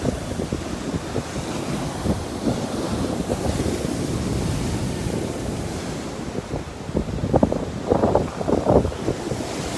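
Rough sea waves pound shoreline rocks during Tropical Storm Karen. A continuous roaring surf carries heavy wind buffeting on the microphone, with stronger crashing surges near the end.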